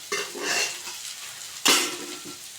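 Freshly cooked hot rice is tossed and stirred in a pan with egg for fried rice, giving soft scraping and a sharp clatter of a utensil, close by with no talking.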